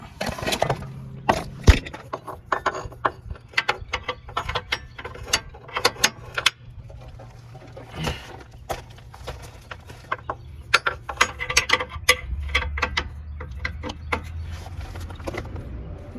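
A socket ratchet clicks steadily while loosening and retightening a control arm bolt on a 7th generation Nissan Maxima, the rapid clicking coming in bursts with brief pauses, close and fairly loud.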